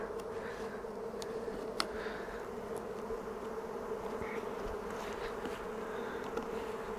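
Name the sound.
honey bees buzzing around hive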